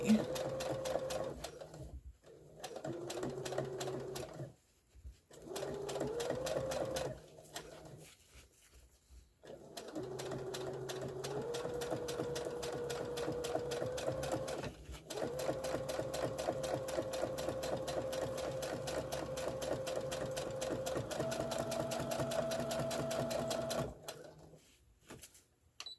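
A sewing machine stitches quilting lines on a stand mixer cover, running in long steady bursts with brief pauses as the pitch of the motor shifts, close and loud.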